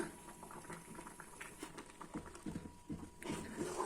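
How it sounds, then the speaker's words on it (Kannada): Thick jaggery syrup for sweet pongal bubbles and pops in a pot, a quiet, close, irregular patter of small bursts that grows a little busier toward the end. "ಬೆಲ್ಲ ಇನ್ನೂ ಸ್ವಲ್ಪ ಹಾಕ್ಕೊಂಡು ಮಿಕ್ಸ್ ಮಾಡಿ ಚೆನ್ನಾಗಿ ಕುದಿಸಿದ್ರೆ"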